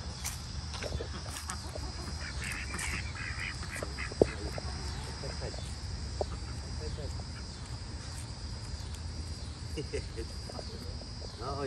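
Ducks quack among chickens on a farm, with scattered short calls over a steady chorus of crickets and a faint background hum, and people talking at times.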